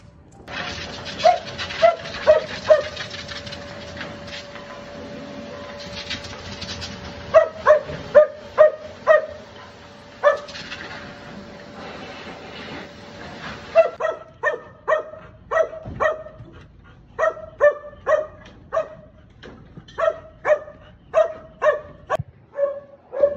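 A golden retriever barks in short repeated bursts, loud and close, with pauses between clusters; the barks come faster and more regularly in the second half, with a faint steady tone beneath early on.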